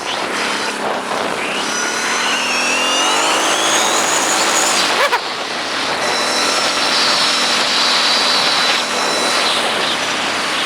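A quad ATV engine runs steadily during a ride on gravel. The loud, continuous droning whine rises and falls in pitch as the throttle changes, with a brief bump partway through.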